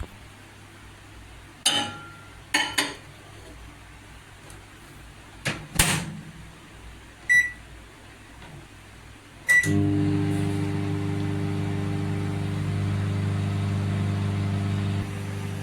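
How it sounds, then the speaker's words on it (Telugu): An LG solo microwave oven is set to micro mode: a few door clunks, clicks and short beeps come first, then a steady loud electric hum with a droning motor tone runs for the rest of the clip. "ఇప్పుడు మనం 1 minute మైక్రో మోడ్లో పెట్టేసి పక్కకి తీసేసేద్దాం"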